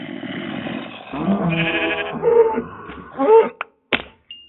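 A sheep bleats in a game, a wavering nasal cry followed by a couple of short sharp hits; a voice may be mixed in quietly.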